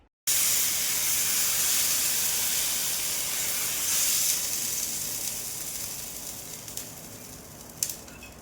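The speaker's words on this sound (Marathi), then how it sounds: "थालीपीठ अशी ओल्या कपड्यावर थापून घेतली आणि तव्यावर खुसखुशीत भाजून घेतले" Thalipeeth, a flatbread patted out on a wet cloth, roasts on a hot tawa, giving a steady close hiss and sizzle that fades slowly, with a few small clicks near the end.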